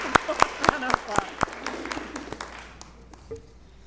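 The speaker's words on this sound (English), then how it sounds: "Let's give her another round of applause." Sparse applause at a school board meeting: a handful of distinct, sharp claps in quick succession that thin out and fade within a couple of seconds into quiet room tone.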